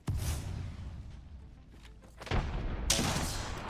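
Gunfire and booming blasts in a solo ranked shooter video game, with a loud burst at the start, a quieter stretch, then heavy shots returning near the end.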